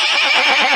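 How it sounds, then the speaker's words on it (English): A horse neighs loudly and close up, a single bright whinny lasting under a second with no talk around it, fitting a horse pulling a carriage to a castle dance in a children's story. "Sir George pulled the carriage with his horse."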